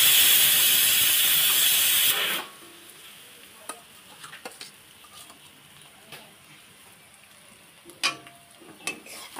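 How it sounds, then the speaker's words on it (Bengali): Potatoes added to a pan of frying spice masala: a loud steady sizzling hiss that drops away after two seconds, leaving quieter scattered stirring and scraping knocks. "সব মশলাগুলো ভালোভাবে কষিয়ে নিয়েছি। আলুটা দিয়ে দেবো।"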